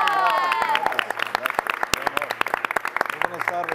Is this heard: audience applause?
yes